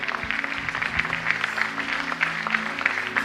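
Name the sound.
church congregation applause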